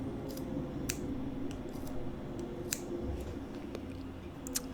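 Scissors snip through macrame yarn ends on a mason jar cover, a few sharp, separate clicks scattered over a steady low background hum, close and fairly quiet.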